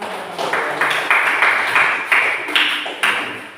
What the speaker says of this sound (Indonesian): Silakan kita beri tepuk tangan.